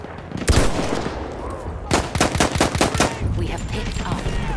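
Rapid bursts of gunfire from the Battlefield 1 first-person shooter, a short shot followed by a dense volley of sharp cracks, loud and close over a steady game background with some talk.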